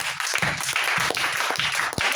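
A church congregation applauding in rhythm, with many hands clapping in a steady, lively beat that fills the hall, and faint voices mixed in.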